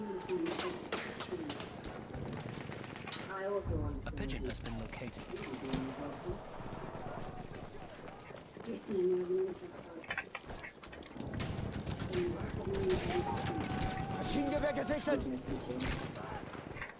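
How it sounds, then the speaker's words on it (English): A pigeon coos in the shooter game Battlefield 1, soft repeated throaty calls rising and falling within continuous loud game noise and clatter. "Enemies picked up the pigeon."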